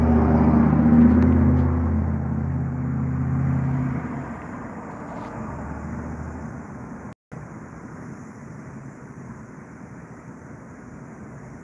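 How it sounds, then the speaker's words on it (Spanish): Standard diesel engine of a civilian-plated military Hummer running nearby, a low rumbling idle that swells slightly then settles into a steady, quieter drone, interrupted by a brief dropout. "Eso es un motor diésel estándar."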